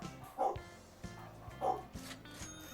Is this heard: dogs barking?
yes